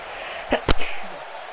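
A single sneeze, sharp and close, with a small intake burst just before it, in a wrestling broadcast setting with commentary nearby.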